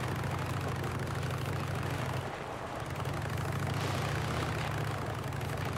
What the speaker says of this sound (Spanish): Va súper lenta la moto